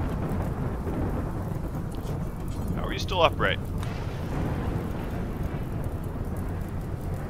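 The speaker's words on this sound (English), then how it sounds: "Oh, it's raining again." Rain and thunder in a video game make a steady wash of rainfall with a low rumble beneath, while someone talks over it near the middle.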